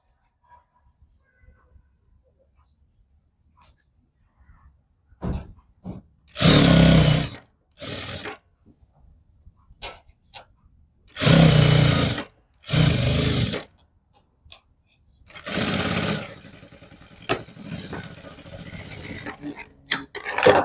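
An electric sewing machine stitches lining into a salwar in several short bursts of rapid mechanical whirring, separated by quiet pauses and small handling noises.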